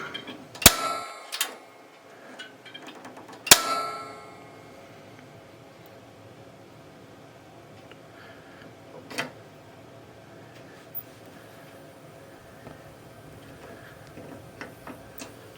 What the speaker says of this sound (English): So let's fire this heater up.